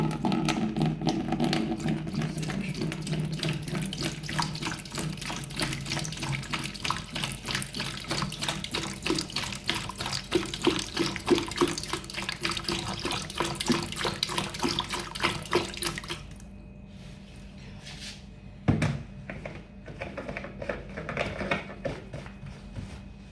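A steady stream of distilled water pours into the water phase of a homemade body butter, continuous and splashy for about sixteen seconds, then quieter trickling with a brief clunk.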